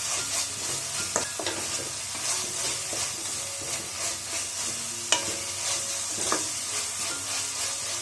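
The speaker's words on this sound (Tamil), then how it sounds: "மசாலா வதங்கினது போதும்" Masala for green moong dal rice frying in a pan while being stirred, a steady close sizzle with scraping spoon strokes and occasional taps against the pan, no voices.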